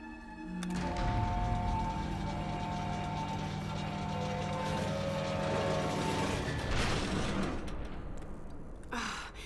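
A generator in the Tomb Raider video game kicks on with a thump, then runs as a steady mechanical hum with whirring, ratcheting tones for several seconds before cutting off near the end.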